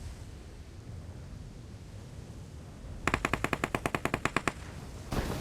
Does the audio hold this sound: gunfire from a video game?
yes